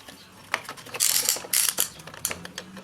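A piston ring compressor is tightened around a piston during a 340 engine build, giving a series of close, sharp ratcheting clicks in short bursts, alone without talk.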